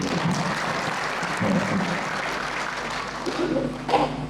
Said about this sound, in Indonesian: Boleh tepuk tangan buat ibu.